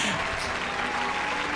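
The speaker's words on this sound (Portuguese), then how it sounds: "Temos palmas, Marcelo?" A brief, steady patter of applause greets a guest on a Franciscan interreligious dialogue programme, lasting under two seconds at an even, close level.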